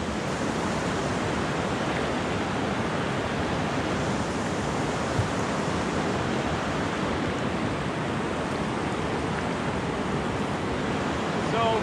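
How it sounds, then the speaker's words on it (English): Canoe running river rapids in the Canadian wilderness, heard as a continuous loud rush of churning water and waves close by, broadband and steady with no pauses, with faint wind buffeting the microphone. "That was some pretty big waves."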